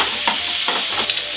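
Tuna sizzling in a hot frying pan while being stirred, a bright continuous hiss with a few soft scraping touches, close and alone without talk.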